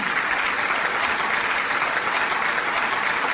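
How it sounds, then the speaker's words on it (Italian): Studio audience applause on an Italian music-school broadcast, dense and even clapping that holds steady throughout without a break. "Fate un applauso, ha detto una frase bellissima"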